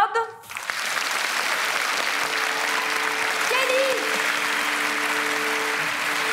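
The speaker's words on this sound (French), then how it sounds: "d'applaudir très fort, mais très, très fort" An audience at a theatre play staged with prisoners from Fresnes applauds loudly and continuously, a dense wash of clapping that rises and holds, with a brief voice at the start.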